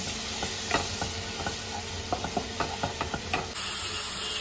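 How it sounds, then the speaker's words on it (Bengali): Spice paste with cumin is stirred and fried in a pan, a steady bright sizzle under irregular scraping clicks of the spoon, close by, with the hiss shifting slightly partway through. "দিয়ে এবার ভালো করে মিশিয়ে মশলাটাকে একটু কষিয়ে নেব"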